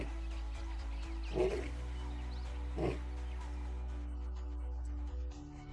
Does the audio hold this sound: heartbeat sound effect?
no